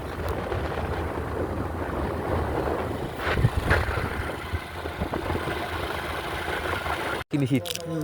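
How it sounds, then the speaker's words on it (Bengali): A motorcycle carries riders along a road, its engine holding a steady mid-pitched drone with wind rush throughout, and voices occasionally talk over it. "আমরা মোটর সাইকেলে করে যাচ্ছি"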